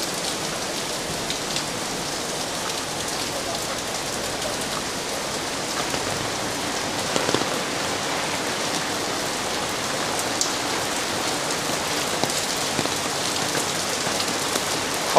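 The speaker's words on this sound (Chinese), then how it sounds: "好大雨啊！" Heavy rain pours steadily onto Mei King Street during Typhoon Saola, a dense, even hiss of drops hitting the ground. It continues without a break, and no voices are heard.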